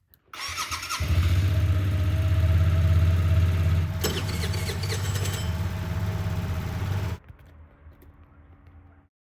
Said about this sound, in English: I came to start the engine.